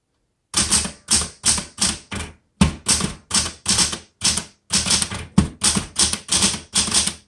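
Rapid keystrokes on a vintage Smith Corona Galaxie Twelve manual typewriter come in a dozen or so short, close, crisp bursts of clacking, each separated by a brief pause, with no other sound.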